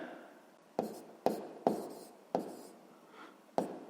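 Pen writing numbers by hand on paper while working a sixth-grade long division problem, heard as a few close, sharp taps and short scratchy strokes separated by brief pauses in a quiet room.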